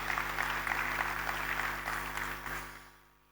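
Audience applause fills a town hall security meeting in Lagos, a steady, fairly faint patter of clapping that holds for a few seconds before tapering off into quiet, with a low hum underneath.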